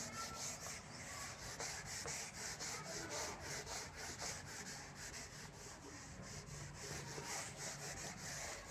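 A duster or cloth rubbing writing off a classroom board during a Class 10 maths lesson, a steady close scrubbing that runs continuously and fairly loudly throughout, with no talking.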